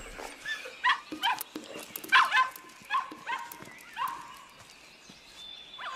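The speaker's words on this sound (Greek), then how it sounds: "Φύγε από εδώ, παλιό σκυλό." A dog in a Greek-dubbed cartoon picnic scene lets out several short, moderately loud barks and yelps in irregular bursts, with lively background sound between them.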